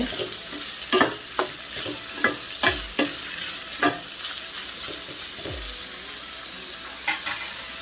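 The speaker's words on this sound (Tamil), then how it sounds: "காய் வேகத்துக்கு கொஞ்சம் உப்பு போட்டு நல்லா வதக்கிட்டு" Carrots with salt sauté in a pan for carrot poriyal, a steady sizzle broken by repeated scraping stirs from a spatula at irregular intervals, close and clear with no talking.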